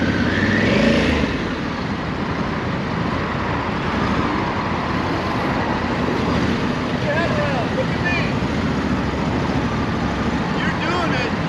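A police training motorcycle idles and then pulls away at low speed as the clutch is let out, a steady engine drone with wind noise outdoors in a training lot, and people speaking over it.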